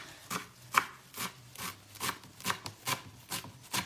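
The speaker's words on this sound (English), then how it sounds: "Just gonna chop it up nice and fine." A knife chops a bunch of fresh cilantro on a cutting board, about nine crisp, evenly spaced thuds of the blade striking wood, close and clear with no voices.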